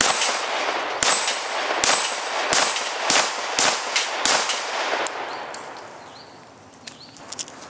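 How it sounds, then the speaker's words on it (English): A Walther PPQ 9mm pistol firing Blazer brass at a steel plate rack 12 yards away, with about nine sharp, loud shots at a quick, steady pace, each followed by a metallic ring, then quiet. "Walther PPQ, shooting blazer brass right at 12 yards, just going to do some plate rack work."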